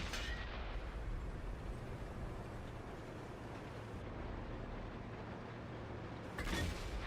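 M48 Patton tank cannon fire in a video game, a dense, rumbling blast over continuous engine and battlefield noise, with a second sharp report near the end.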